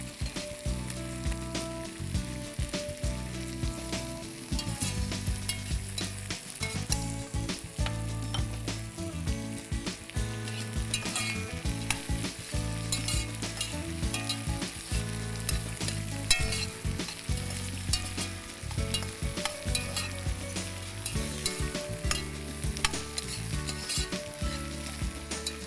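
Sliced onion and potato strips frying in a pan for pasta masala, a dense continuous sizzle with spattering crackle and occasional stirring scrapes, close and steady without speech.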